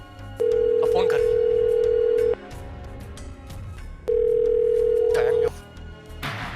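Two long, steady telephone tones sound, each lasting a couple of seconds with a pause between, while a voice speaks quietly in the background.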